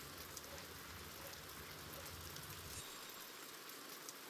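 Rain in the Stonehearth game, a soft, steady patter on surfaces with a faint low rumble underneath that drops away partway through, quiet and continuous with no talk.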